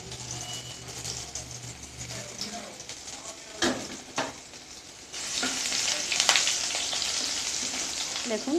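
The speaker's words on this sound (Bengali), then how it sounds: "এবার আমি গ্যাসে তেলটা বসিয়ে দিয়েছি, পেঁয়াজটা লাল করে নেব।" Onion sizzles in white oil in a pan on a gas stove as pasta is prepared, a steady frying hiss with occasional stirring clatter that grows louder toward the end.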